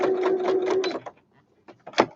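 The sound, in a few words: sewing machine stitching a zip with a zip foot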